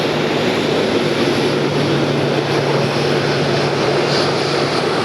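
Delta airliner taxiing fast at Atlanta airport, a loud, steady engine drone with a low hum running through the whole stretch, close by and without a break.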